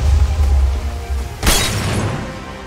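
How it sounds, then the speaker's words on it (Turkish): Glass shattering in Minecraft, a single sharp crash about halfway through, following a low rumbling and trailing off into a crackling tail. "Tamam, camı kırdım."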